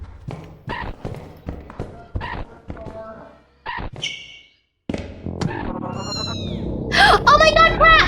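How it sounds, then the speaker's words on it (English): A cat meows in the video game Lethal Company amid in-game thumps and footsteps. Players talk over it, and the meows rise near the end. "There's a cat somewhere."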